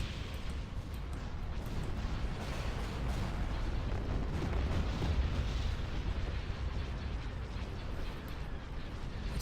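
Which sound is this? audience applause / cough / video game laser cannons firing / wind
video game laser cannons firing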